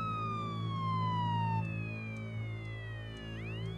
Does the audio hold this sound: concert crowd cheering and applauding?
no